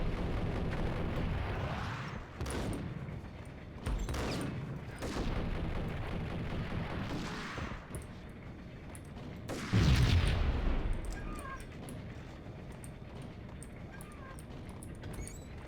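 Several booming blasts from grenades and gunfire in the shooter game Max Payne, with a heavier explosion near the end that rumbles and fades, no talk.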